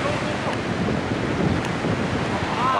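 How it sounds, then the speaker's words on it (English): Strong wind roaring across the microphone at a cold beach during a volleyball game, a loud and continuous rushing noise with surf-like swells that fills the whole moment. "The wind's blowing, it's freezing."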